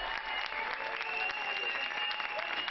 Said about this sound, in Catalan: a les 8 fan els aplaudiments al personal sanitari i als treballadors